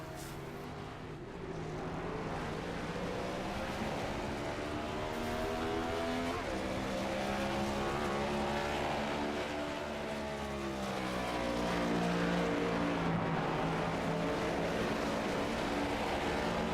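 A pack of about 22 Gen 7 Cup stock cars racing at Daytona in a racing video game, a steady, loud, droning engine roar with shifting pitch that runs unbroken, with no talk.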